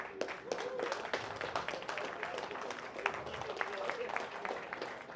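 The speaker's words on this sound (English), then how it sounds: "a round of applause for every one of you." A seminar audience applauds after a crypto presentation, steady moderate clapping from a room of people that continues evenly throughout.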